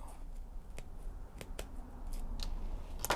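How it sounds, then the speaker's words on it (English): Scissors trim the ends of zippers level with a fabric pocket edge, giving a few faint, separate snips at uneven intervals over a quiet background, with a sharper cut near the end. "Now we can trim the end of the zippers off"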